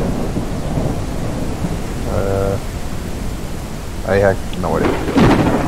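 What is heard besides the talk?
thunder and rain in HumanitZ video game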